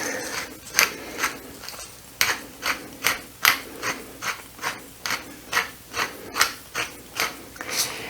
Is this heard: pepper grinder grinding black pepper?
yes